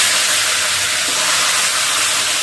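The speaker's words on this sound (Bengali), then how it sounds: "এখানে মেথি ফোড়ন দিব, বুঝছেন। তেজপাতা তো আগে দিয়ে দিচ্ছি, মেথি ফোড়নটা দিয়ে কপিগুলো ছেড়ে দেবো।" Fenugreek seeds and cauliflower frying in hot oil with a bay leaf, a loud, continuous, close hiss of sizzling without voices.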